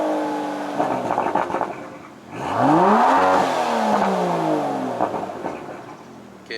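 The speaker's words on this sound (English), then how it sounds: "you can hear a deeper tone from the exhaust" A 2020 Aston Martin DBS Superleggera in Sport Plus mode revs loudly, its exhaust rising in a deep, sweeping rev, holding, then falling off, close and powerful.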